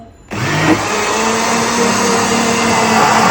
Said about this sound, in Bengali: ব্লেন্ড করে মিক্স করব